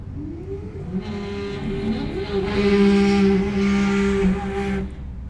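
Drag racing at Thunder Valley Raceway, an all-wheel-drive car beside a rear-wheel-drive first-gen Chevrolet Camaro: loud, sustained engine drone that swells and holds, heard from the track side.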